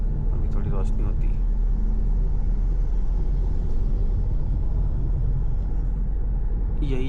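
A Mahindra XUV700 drives at night on a long road trip from Pune to Jabalpur, giving a constant low cabin rumble of engine and road noise with faint murmurs of talk inside.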